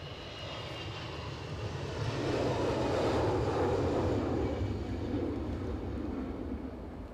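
A Boeing 747 roars past at Edinburgh airport on a gusty, windy day, its broad engine noise swelling to a peak midway and holding steady, loud and close, with no talk over it.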